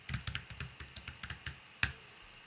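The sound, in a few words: typing a password on a Mac computer keyboard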